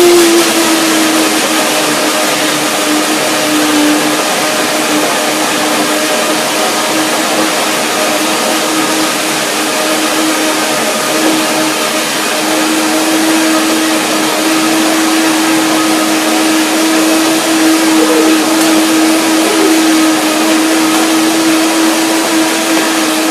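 A blender runs steadily, blending fruit with ginger, a continuous motor whir with a fixed drone and dense high-pitched grinding, loud and close throughout with no talking.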